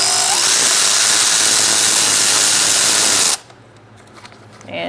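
A powered ratchet or impact driver with a 10mm socket removes a bolt on a Subaru Forester during water pump work, a loud steady whirr of about three seconds that cuts off abruptly, followed by faint handling sounds.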